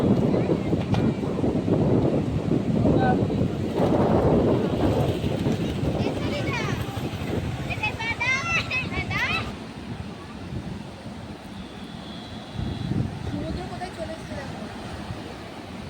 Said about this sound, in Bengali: তো চলো তোমাদের দেখাচ্ছি সমুদ্রকে